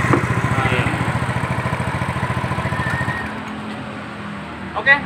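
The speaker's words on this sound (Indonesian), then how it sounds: "motor ini sudah kondisinya hidup ya" A small motorcycle engine runs steadily in a repair workshop, its rapid, even idle thrumming close and loud before settling into a quieter idle, with a few faint clicks near the end.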